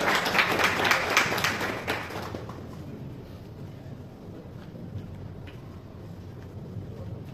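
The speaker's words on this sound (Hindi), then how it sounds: "इन्होंने वास्ते जोरदार तालियां प्लीज" Audience at a prize distribution ceremony claps in a dense burst for about two seconds, then the applause fades into a low, hissy background.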